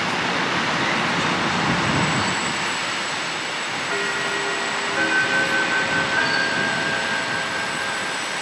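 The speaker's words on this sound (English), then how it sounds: "Those locomotives, I believe, used to be the East German 155 classes." A heavy former East German class 155 electric locomotive rumbles past in Germany with a steady broadband roar and a few faint tonal whines rising in the mix, loud and continuous throughout.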